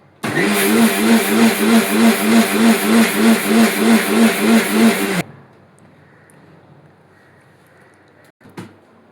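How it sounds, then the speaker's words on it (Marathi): A mixer grinder grinds roasted moong dal into powder: a loud, close motor whine with a steady pulsing rhythm for about five seconds, then it cuts off abruptly, leaving near silence and a faint knock at the end. "हे मिक्सरला लावून बारीक करणार आहे. याची पावडर करायची बारीक आपल्याला."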